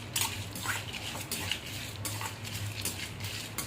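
Mutton dry-roasting in a kadai with no oil, with the scrape and clatter of a metal spoon against the pan, broadband scraping and a low steady hum running throughout, moderately loud and continuous.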